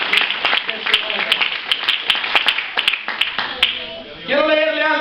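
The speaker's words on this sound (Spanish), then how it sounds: "Denle fuerte ese aplauso al Señor para la gloria de su nombre." Congregation applauding in church, sharp individual claps scattered in an uneven rhythm under talk, giving way to a voice near the end.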